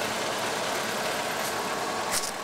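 A Ford Model A car engine running while being driven, a steady, loud mechanical drone with a brief higher knock near the end and no voices.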